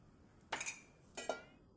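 A saucepan is set on a stove and handled with two close metallic clanks about 0.6 seconds apart, each with a brief ringing tail, in an otherwise quiet kitchen.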